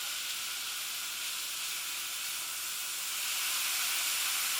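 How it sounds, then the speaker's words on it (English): Sliced courgettes sizzle in olive oil in a pan, a steady, close hiss of frying with rising steam, unbroken and without talk. "You can see the steam beginning to come off them as the liquid starts evaporating."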